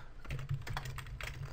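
Typing on a computer keyboard, a quick run of close, light key clicks in an irregular rhythm with a faint background hum and no voices.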